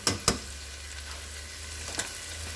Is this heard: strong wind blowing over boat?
no